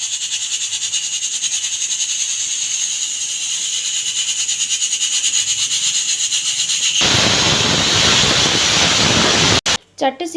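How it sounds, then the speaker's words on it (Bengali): A pressure cooker on the stove at medium flame during chicken stew cooking: a sustained high whistle builds, then a loud burst of hissing steam release takes over near the end. "মিডিয়াম ফ্লেমে রেখে আমি 3 থেকে 4টে সিটি দিয়ে দেব।"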